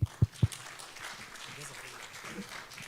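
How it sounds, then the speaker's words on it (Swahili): A few sharp, close claps open the moment, then thin into a loose, noisy crowd background as a guest is welcomed at a Labour Day press event in Kenya. "Tumpigie makofi."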